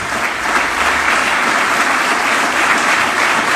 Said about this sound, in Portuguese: dê a sua melhor salva de palmas ao Senhor Jesus